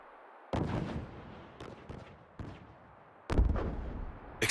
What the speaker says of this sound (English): Explosions! A battle!